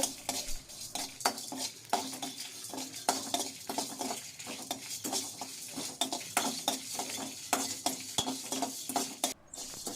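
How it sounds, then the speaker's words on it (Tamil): A spoon scrapes and stirs through dried red chillies, coriander seeds, pepper, cumin, fennel and fenugreek dry-roasting in a metal pan over medium flame, clinking rhythmically with a faint sizzle in the background. "வரமிளகா, தனியா, மிளகு, ஜீரகம், சோம்பு, வெந்தயம் இதெல்லாம் போட்டு ஒரு 3 நிமிஷம் மீடியம் ஃப்ளேமில் வச்சு நல்லா வறுத்துக்கோங்க"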